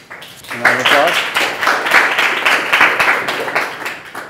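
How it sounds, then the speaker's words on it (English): Audience applause at a tutoring company's awards ceremony as an honoree comes up, a steady dense patter of hands lasting several seconds with a few voices mixed in. "A round of applause"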